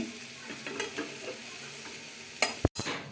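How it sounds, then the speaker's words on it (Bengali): A spoon stirs leafy greens frying in a pan, scraping and turning them over a soft steady sizzle. Near the end there is a louder clatter and a quick knock, all close and quiet, with no voices. "শাকটাকে ঢাকা দেওয়া হয়েছিল খুলে দিয়ে ভালো করে নাড়া হচ্ছে নেড়ে দেওয়া হচ্ছে"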